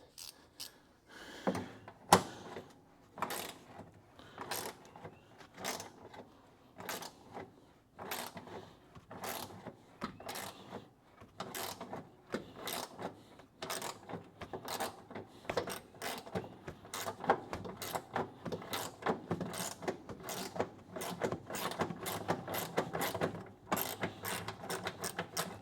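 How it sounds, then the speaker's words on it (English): A ratcheting-head wrench clicks in a long series of sharp, close ratchet strokes, slow and spaced at first, then quicker and denser, during car restoration work. "See, this one has a ratcheting head."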